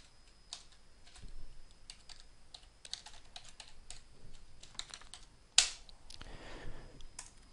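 Typing a new army name on a computer keyboard: quick, close keystrokes in uneven bursts, then a sharp louder click followed by a brief rustling burst, over near-silence.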